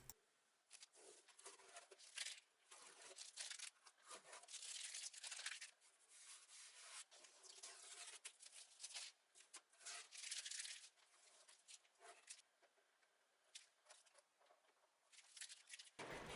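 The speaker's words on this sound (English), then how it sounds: "here is the moment of truth, taking off the tape" Painter's tape peeled from a freshly painted furniture piece, a faint scratchy tearing rustle that comes in short bursts and stretches, quiet and close with pauses between pulls.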